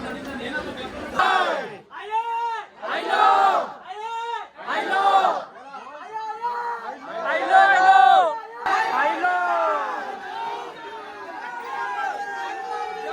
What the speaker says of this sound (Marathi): गाईज लिटरली खूप गर्दी आहे